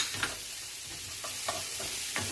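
Onions and garlic cook in a pan for Philly cheesesteak stuffed bell peppers: a steady, close sizzle with a few faint scrapes of stirring, and no voices.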